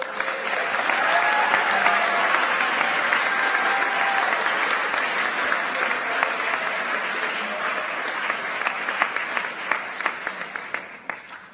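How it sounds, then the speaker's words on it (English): Audience at a high school science awards ceremony applauds students as they rise, a dense, steady wash of many hands clapping that holds for several seconds and thins out toward the end. "Students in this set, please rise to receive our applause."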